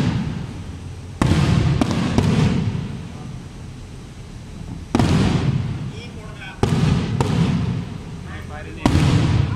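Fireworks explode some distance away in sharp, booming bursts: a quick cluster of three, then single and paired blasts spaced a few seconds apart, with people's voices chattering nearby between them.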